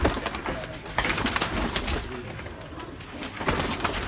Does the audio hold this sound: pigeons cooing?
yes